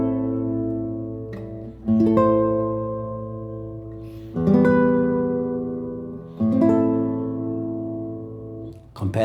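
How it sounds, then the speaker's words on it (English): A steel-string guitar rings out sustained notes with subtle vibrato, each note wavering gently in pitch as it decays, with fresh plucks about every two seconds; close, clear and unaccompanied, no talking. "The first style is called vibrato."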